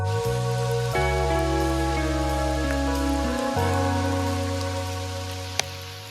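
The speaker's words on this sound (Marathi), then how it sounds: "वाटलं नव्हतं की पाऊस येईल" Rain falls during a monsoon trek to Bhimashankar via Ganesh Ghat, a constant dense hiss of drops on surfaces under a steady droning tone, with no one talking.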